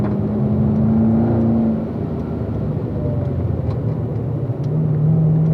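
A race car engine accelerating on the Spring Mountain track, a loud close rumbling drone whose pitch holds, dips, then climbs again under continuous road and wind noise, with no talking.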